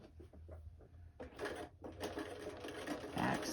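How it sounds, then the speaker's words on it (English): A sewing machine edge stitches the pressed fold lines of a fabric lunch bag about 1/8 inch from the edge, a steady mechanical whir running near and fairly loud after a brief pause, with no talk over it. "to edge stitch these 4 fold lines that you just pressed"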